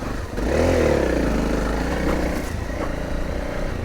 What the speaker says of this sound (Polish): A ten motor po prostu jedzie po wszystkim, po błocie, po środkiem.